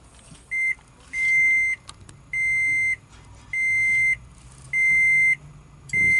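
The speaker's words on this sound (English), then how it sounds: "It's beeping at me because I don't have my seatbelt on" A repeating electronic seatbelt warning chime, five or six evenly spaced tones about a second apart, clear and close inside a quiet 2012 Toyota Prius Plug-in.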